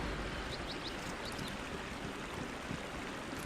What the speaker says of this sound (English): I hear running water. Perhaps we've come to a river of sorts.